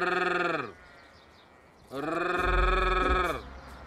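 Goats bleat in two long, loud, wavering calls close by, with a quiet gap between them and a low rumble under the second call.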